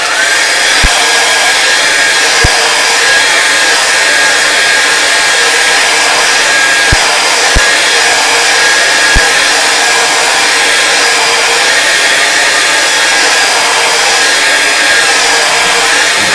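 A hair dryer blows steadily and loudly for the whole stretch, drying paint on a landscape painting of mountains, with a few sharp clicks or taps scattered through the first part.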